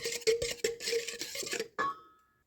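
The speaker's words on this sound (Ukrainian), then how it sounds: "Добре вінчиком перемішую, щоб повністю дріжджі розчинилися у молоці." A whisk rattles rhythmically against the side of a bowl while stirring yeast into milk, a quick run of close metallic taps that ends with a ringing clink and then fades to silence.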